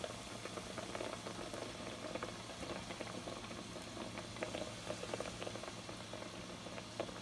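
Dough balls frying in hot oil for aum bomb, a steady dense bubbling and crackle that carries evenly throughout at a soft, close level with no voices.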